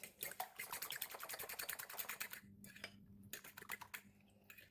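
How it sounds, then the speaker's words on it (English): Eggs with spring onion and chili being beaten in a bowl, a rapid run of close, crisp clicks and taps from a utensil against the bowl, pausing briefly before resuming. "We're going to beat the eggs."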